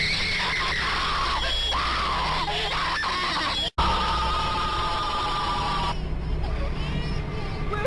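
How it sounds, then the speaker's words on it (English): Loud shrill screaming effects from the animated movie Where The Dead Go To Die wail continuously in the background, with honk-like cries, a brief cut to silence midway and voices talking over them. "we get loud screaming effects in the background"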